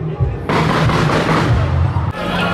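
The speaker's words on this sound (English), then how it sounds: "Somebody set off the fireworks on accident." Fireworks set off by accident at the Bonnaroo music festival: a dense, continuous crackling and rumbling burst that starts abruptly and roars on steadily over a low outdoor hum, with crowd noise mixed in.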